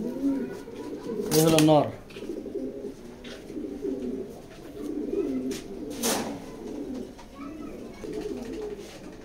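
Racing pigeons coo in soft repeated bursts, with one loud coo near the start and another midway, while someone talks close by throughout.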